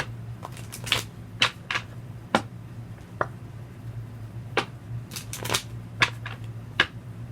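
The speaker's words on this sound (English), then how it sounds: "Let's get 3 shuffles." Tarot cards being shuffled by hand, a series of irregular crisp snaps and riffles spread over several seconds, close and fairly quiet over a steady low hum, with no talking.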